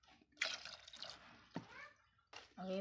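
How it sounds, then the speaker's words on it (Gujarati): Water is poured into a pressure cooker over halved potatoes, giving soft splashing and trickling in short bursts, close but quiet, with talking in between. "તો હવે આપણે એમાં આપણે નાખવાનું છે પાણી આપણે નાખવાનું છે બટેટા ડૂબી જાય એટલું"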